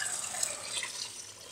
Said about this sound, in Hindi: पानी डालेंगे ठंडा